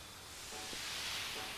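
A steam locomotive lets off a steady, soft hiss of steam that swells gently and holds for the whole moment, with no voices over it.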